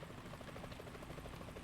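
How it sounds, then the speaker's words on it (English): Helicopter approaching in the video game Metal Gear Solid 2, a faint continuous rotor chop with rapid rhythmic thumping over low engine drone. "Is that a chopper I just heard?"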